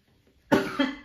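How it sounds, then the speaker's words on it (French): A sudden burst of harsh coughing after near silence: two or three rough coughs in quick succession, close and fairly loud. "La toux est de retour"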